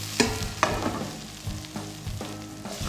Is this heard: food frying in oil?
yes